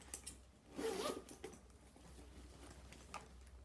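Zipper on a Michael Kors zip-top tote bag being pulled, a close, quiet ratcheting zip lasting about a second, followed by a few soft handling taps and rustles.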